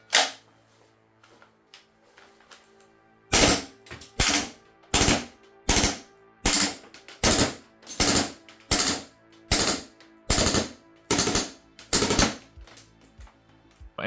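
Krytac Kriss Vector airsoft gas blowback rifle firing full auto: a dozen loud, sharp bursts in quick succession, each a rapid clattering string of shots with brief gaps between, starting after a quiet lead-in.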